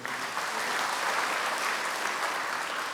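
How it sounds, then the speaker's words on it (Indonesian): A church congregation at a worship service breaks into lively applause, a steady dense wash of many hands clapping at once that holds evenly for a few seconds, with no voices on top. "Yang setuju tepuk tangan yang meriah"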